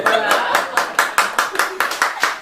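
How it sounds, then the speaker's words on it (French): An audience at a fifth-anniversary celebration of the magazine Carrières claps in a steady, evenly spaced rhythm, about a dozen sharp claps in unison, close and moderately loud, with faint talk underneath. "S'il vous plaît, applaudissez de ce côté"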